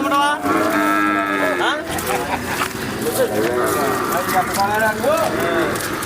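Several buffalo calves moo and bellow repeatedly nearby at the Jangareddygudem buffalo market, over a busy outdoor background, with people talking amid the calls.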